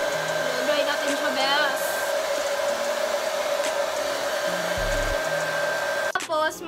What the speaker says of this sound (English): gagamit ako ng blow dryer para mas mabilis siya